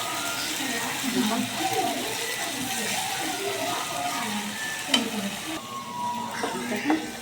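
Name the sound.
stirring pasta in a pan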